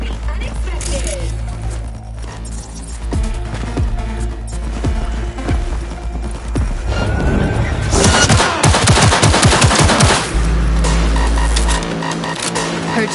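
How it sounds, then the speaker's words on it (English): Gunfire crackles through a Cyberpunk 2077 firefight in several sharp bursts and rapid volleys, loudest toward the end, mixed with game sounds and voices speaking. "Heard shots."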